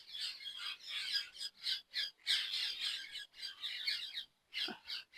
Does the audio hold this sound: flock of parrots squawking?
yes